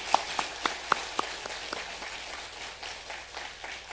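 A church congregation claps at a Sunday worship service to thank a visiting pastor for the sermon. A few distinct, spaced claps lead into soft, scattered applause that trails off quietly.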